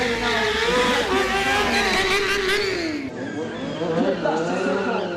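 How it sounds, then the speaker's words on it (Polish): At a stunt show, a motorbike spins a burnout donut. The engine revs loud and close, its pitch rising and falling, over a continuous skidding tire, with a voice talking over it. "Jeszcze taki klasyczny donut, czyli burnout"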